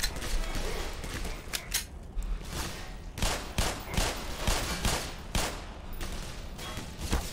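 Repeated gunfire bursts and single shots from the shooter game Black Mesa, a steady run of sharp cracks at moderate level with little talk.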